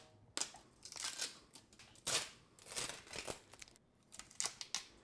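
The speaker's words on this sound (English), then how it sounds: "We have the plastics, let's just remove them." Protective plastic film being peeled and crinkled off a Sapphire RX 7600 XT Pulse graphics card, close crackling rustles and tearing in several uneven bursts, fairly loud, no voices.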